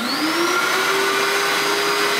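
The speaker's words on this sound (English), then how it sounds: "I'm going to hit the vacuum to also get the dry dust off the bottom of the record at the same time." A Nitty Gritty record cleaning machine's vacuum runs loud and steady, a close, continuous whine that rises in pitch over the first half second and then holds, pulling dust off the underside of a vinyl record.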